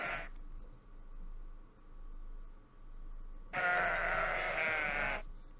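Cartoonish sheep bleats from a puzzle game about ferrying a flock across rivers by boat, a short bleat at the start and a longer, louder one near the end over a quiet hum.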